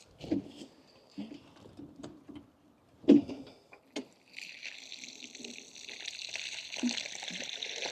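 Water is poured around newly planted pumpkins in a garden. Scattered soft thumps and splashes come first, then a steadier trickling pour, all fairly faint and close.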